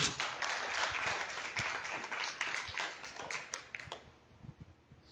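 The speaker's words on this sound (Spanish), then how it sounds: "Denle un aplauso fuerte a Jesús" Church congregation applauding during a sermon, lively crowd clapping with sharp individual claps that thins out and fades over the last second or so into scattered taps.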